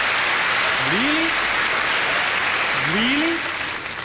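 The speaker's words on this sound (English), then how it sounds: "A round of applause on a joke about the worst thing that's ever happened?" Steady crowd applause fills the room after a comedy joke, holding loud and even throughout before easing slightly at the end.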